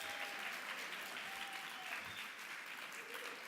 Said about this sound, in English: Let's give the book fair a round of applause